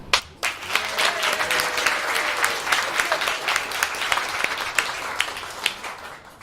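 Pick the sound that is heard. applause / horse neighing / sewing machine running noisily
applause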